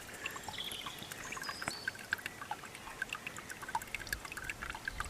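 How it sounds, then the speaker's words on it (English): Water spills out of an old well pump into a trough, a close, continuous trickling and pouring with small bright splashes and drips over a soft outdoor background. "Look at the water coming out."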